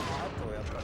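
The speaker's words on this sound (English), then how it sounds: "we also worked very hard on the sounds for the guns" Gunfire from the video game Resident Evil 4, a short, dense burst of shots that fills the mix loudly for under a second.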